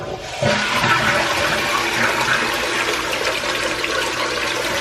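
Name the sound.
toilet flushing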